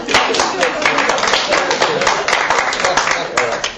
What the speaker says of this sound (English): There was mostly women clapping